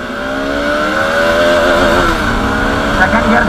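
A Bajaj Pulsar RS 200 motorcycle accelerates hard, its engine note climbing steadily in pitch and staying loud and close throughout, with a slight waver as revs build.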